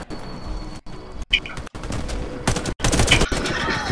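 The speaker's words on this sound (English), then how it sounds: "Well, I'm being shot by somebody." Rapid bursts of automatic gunfire from the shooter video game Warface, loud and continuous with short gaps, stacked in dense overlapping volleys and no talking.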